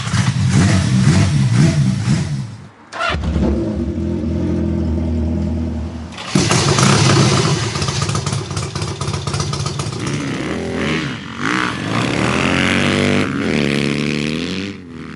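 An old barn-find Brat-style bike engine after a carburetor clean, cranking and catching, then running loud and close with uneven revs, a brief dip and restart, and wavering throttle blips toward the end.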